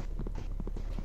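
Horse hooves clip-clop in the video game SurvivalCraft, a steady run of soft, evenly spaced hoofbeats at moderate volume over a constant low background hum, with no talking.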